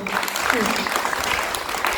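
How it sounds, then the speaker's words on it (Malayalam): Audience clapping at a college event, a dense steady applause sustained evenly from start to finish with a murmur of voices underneath. "ഒരു ക്ലാപ്പ് ഓഫറിങ് കൂടെ സാറിനൊന്ന് കൊടുത്തു."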